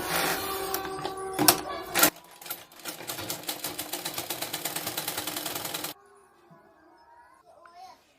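A sewing machine runs in a fast, even burst of needle strokes for a few seconds while stitching the lining of a blouse, close and clear, after some handling clatter and followed by quiet.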